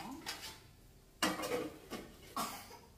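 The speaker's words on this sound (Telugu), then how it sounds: "గీతు విజన్ ఉంది కదా, దాని మీద ప్లేట్ మూత వేసిద్దాం." A plate clinks down as a lid over a dish in a home kitchen during sweet-making. Several sharp ceramic knocks and scrapes come close by, separated by quiet gaps.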